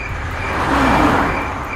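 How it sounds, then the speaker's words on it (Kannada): A single road vehicle passes by in the middle of the night, its engine and tyre noise swelling to a peak and fading over steady traffic hum, alone without voices. "ಯಾವಾಗೋ ಅವಾಗೊಂದು ಇವಾಗೊಂದು ಒಂದು ಗಾಡಿ ಹೋಗ್ತಾ ಇದೆ,"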